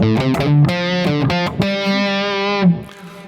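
Electric guitar played through a Kemper Profiler amp on the single coil bridge pickup, giving loud, distorted sustained notes and a short riff of chopped chords that ring out, then decay near the end, with no talk.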